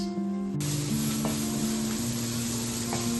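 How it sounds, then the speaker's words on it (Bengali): Steady, loud sizzling of onions frying in a pan, continuous throughout, with faint stirring scrapes and a low background hum. "পেঁয়াজটা ভাজা ভাজা হয়ে গেছে"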